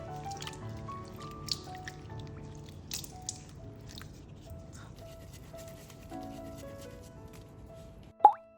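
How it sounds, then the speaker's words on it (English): Rinsed shrimp draining for a stir fry, with soft dripping and small plops under a steady background hum, ending in one sharp, louder splash-like knock near the end. "Rinse the shrimp and drain and toss them in a bowl."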